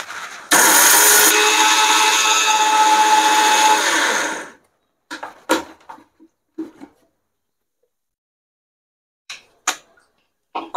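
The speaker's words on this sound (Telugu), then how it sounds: "ఇంకా కొంచెము మనం గ్రైండ్ చేయాలి" A mixer grinder running coarse rasam powder spices roars loudly for about four seconds and then stops. Scattered clicks and knocks of the jar being handled follow in near silence.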